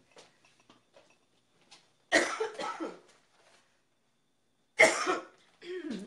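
A woman's coughing as her voice gives out, two separate fits of several harsh coughs each in a quiet room, with faint clicks and small sounds between them.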